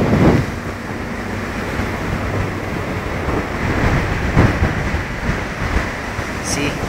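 Rough ocean waves and wind roar in a loud, continuous wash, with gusts buffeting the microphone.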